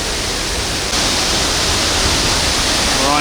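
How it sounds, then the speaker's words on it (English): A high-flow waterfall roars steadily as a broad, even rush heard from a viewing platform at the end of the rainy season, with wind adding to the wash. "that is a fantastic waterfall. Really high flow."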